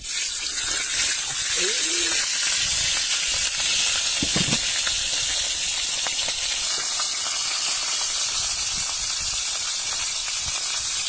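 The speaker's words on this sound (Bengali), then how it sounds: "দা মাছ ভাজা তো হচ্ছে" Fish frying in a pan during home cooking in the Sundarbans gives off a steady, dense sizzling hiss that runs throughout. Faint voices and a few clinks sit underneath it.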